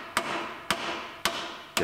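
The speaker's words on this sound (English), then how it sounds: "We'll hammer the bracket around." Four sharp metallic hammer blows on a vehicle bracket land at a steady pace, each ringing briefly before the next strike, close and clear with no talking, on a 2019 GMC Yukon Denali.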